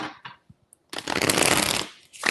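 Cards riffle and shuffle briskly up close, a couple of short flicks followed by a long continuous riffle, then another quick shuffle.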